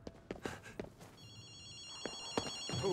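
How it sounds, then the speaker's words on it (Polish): Telephone ringing in the video game Ghostwire: Tokyo, with a bright electronic trill repeating steadily through the second half of the clip, preceded by scattered game effects and clicks. "Telefon."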